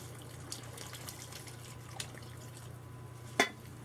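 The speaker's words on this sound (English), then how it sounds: "So this is hot water I'm adding." Hot water poured into a pot of Trinidad callaloo with crab gives a faint, steady trickle and light splashing under a low hum, with a couple of small drips and a sharper splash near the end.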